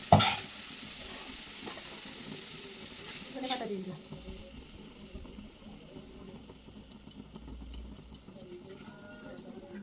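Hot oil tempering sizzles in a pan over boiled lentils with salt and turmeric, a sharp burst near 3.5 seconds followed by a steady low crackle, close and moderately loud.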